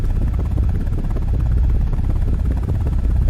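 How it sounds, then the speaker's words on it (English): Attack helicopter in a flight game, a loud continuous rotor drone with dense low thumping and steady engine roar, unbroken throughout with no talk. "Right now you may notice that the helicopter is moving by inertia"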